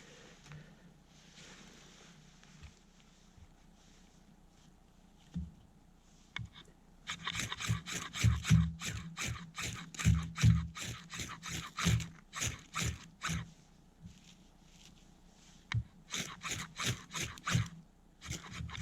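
A ferro rod scraped with a Webtex mod survival knife: after a quiet start, a long run of quick, rhythmic rasping strokes comes in close and fairly loud, then pauses briefly before a final burst of scrapes.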